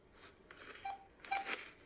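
Telephone dialing tones, a few short faint beeps in quick succession against quiet background hiss.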